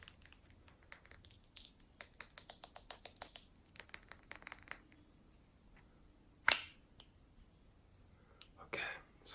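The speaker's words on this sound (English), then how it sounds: "I love the sound of glass bottles" Close, quiet handling of a glass bottle of pillow mist in a soft ASMR meditation setting: a run of light clicking taps and clinks, then two brief soft spray-like bursts.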